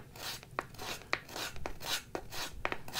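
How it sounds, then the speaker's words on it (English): A steel card scraper draws across wood in a series of short rasping strokes, soft and close, with sharp clicks where each stroke starts and no talk. "Playing with a card scraper is so much fun."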